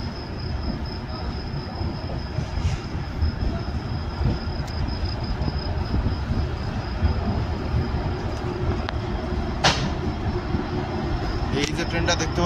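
A Bikaner-Howrah train with LHB coaches and a locomotive rolls past close by, with a continuous rumbling clatter of wheels on rails broken by short metallic squeals near the end.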